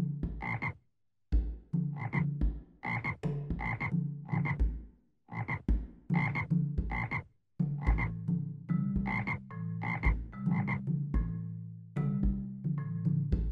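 A toad croaks over and over in steady, loud, close repeated calls with short gaps, used as a sound effect for a children's story about a friendless toad by a pond.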